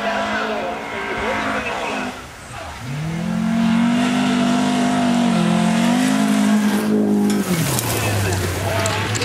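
Rally car in a Swedish sprint rally, engine roaring loud and close as it accelerates past at speed, revs rising and falling through gear changes, with a commentator talking over it throughout.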